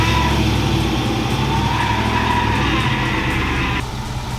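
A Jeep engine fired up and running after a welding repair, a loud, steady, dense roar close by that holds constant for several seconds, then drops slightly in level near the end.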